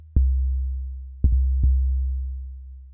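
Deep 808 bass notes made in Reason 12 with the Algoritm synth and distortion hit three times, each with a sharp attack and a long, booming low tail that rings on between hits.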